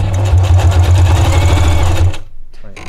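A Necchi Q132a heavy-duty sewing machine stitching, a loud, steady motor hum with a fast rhythmic needle chatter that stops abruptly near the end.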